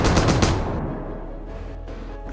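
Cannon firing in the From the Depths video game, a loud rapid burst of shots at the start that trails into a long rumbling, echoing decay, with a final sharp hit at the end.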